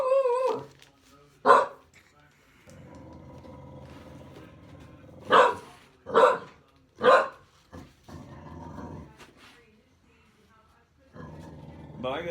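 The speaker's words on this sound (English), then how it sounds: "I do not see anything that they're barking at, Drew." Dogs bark in several sharp, loud bursts with short gaps between them. Talking fills the pauses and there is some low growling.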